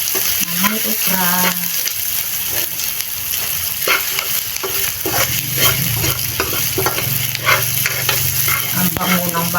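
Garlic and onion sautéing in a pan while being stirred, a loud continuous sizzle with repeated scraping strokes of the utensil, close by and steady throughout, with brief snippets of other sounds.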